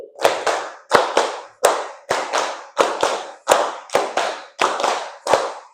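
A classroom of children claps in a counted pattern set by their teacher, about a dozen sharp group claps falling in quick pairs and single beats, each one a crisp burst with a short decay.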